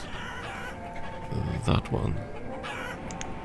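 Chickens cluck in the village-building game Banished, faint clucks under a player's quiet commentary over steady game ambience.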